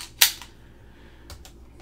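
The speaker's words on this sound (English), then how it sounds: "We'll throw in an empty mag." Empty magazine inserted into an Umarex Beretta 84FS BB pistol, one sharp metallic click followed a second later by a couple of lighter clicks, close and alone.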